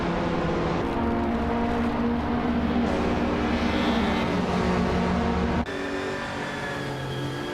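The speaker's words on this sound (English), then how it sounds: "Gami is driving a 2012 Mini Cooper Challenge" A 2012 Mini Cooper Challenge race car in a racing video game, its engine droning loudly and continuously at high revs, with the pitch shifting slightly and a sudden change in tone near the end.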